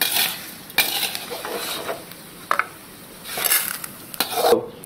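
Kamarkas (Butea gum) is dry-roasted in a pan on a gas stove while being stirred, giving repeated scraping and clinking of a spoon against the metal with faint sizzling between strokes, close and fairly quiet.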